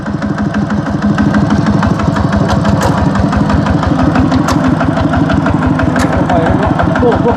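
A truck engine idles nearby with a loud, steady low rumble and rhythmic knock that holds evenly from start to finish, with no other sound over it.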